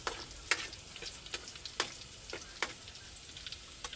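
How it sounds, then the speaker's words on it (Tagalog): Garlic sautéing in a pan, a faint continuous sizzle broken by sharp, evenly spaced scraping strokes of a spatula, about two per second, close and alone without voices. "Unahin po natin ang bawang."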